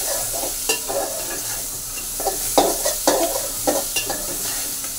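Rice frying with salt in a pan, stirred steadily: a constant sizzle under repeated scraping strokes of a utensil against the pan, close and fairly loud.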